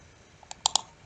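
Computer mouse clicks while working with an Excel pivot table, a few small sharp clicks close up in quick succession, the two clearest near the middle, in a quiet room.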